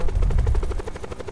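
A helicopter in a video game gives off a fast, rhythmic rotor chop, loud and close, with a heavy low rumble early on that thins out as the blade pulses continue.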